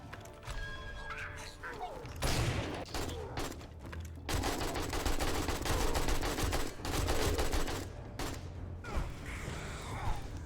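Shotgun turrets blast away during a nighttime defense in 7 Days to Die, a dense fusillade of loud, rapid overlapping gunfire with crashing impacts, broken by brief lulls before firing resumes.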